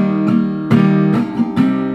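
Acoustic guitar strummed close up in a repeating pattern, four sharp strokes over a sustained chord, bright and full.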